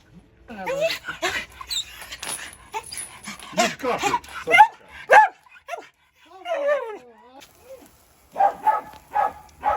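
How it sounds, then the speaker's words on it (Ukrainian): A dog at home during a family weekend gives short yips, barks and whimpers while people talk nearby, and the dog sounds come in uneven bursts. "Собака, собака."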